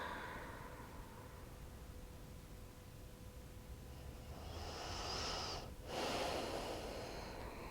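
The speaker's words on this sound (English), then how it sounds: "In and out the nose." Slow, steady breaths in and out through the nose during a post-snowboarding recovery stretch, heard close and quiet, with a longer, louder airy exhale near the end.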